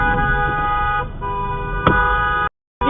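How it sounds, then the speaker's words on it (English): Car horn blasting at a driver going the wrong way, a loud, near, sustained honk of about two and a half seconds, cut off briefly and then sounding again over traffic noise. "Wrong way driver gets angry when camera honks at him."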